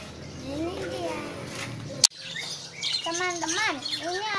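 Caged birds chirp at a bird market in rapid, bright bursts that build in the second half over a busy crowd and nearby voices, with one sharp click partway through.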